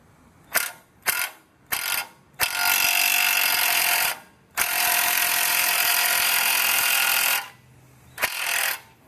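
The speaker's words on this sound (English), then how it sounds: "We're gonna put the impact tool right here" Impact wrench hammering on a ball joint of a 2002 first-generation Toyota Tundra: three short bursts, then two long sustained rattling runs and a final short burst, loud and close with no talk.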